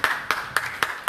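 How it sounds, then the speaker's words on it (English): Hands clap in an even rhythm at a gathering in Edo State welcoming a guest: five crisp, evenly spaced claps about a quarter second apart, close and clear with no talking. "Please clap for him."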